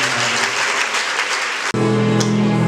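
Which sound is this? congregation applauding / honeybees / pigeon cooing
congregation applauding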